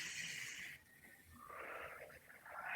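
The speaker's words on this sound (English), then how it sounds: "take a deep breath." A deep breath drawn in and then released during a guided affirmation session, close and airy with a brief pause between the inhale and the exhale, no talking.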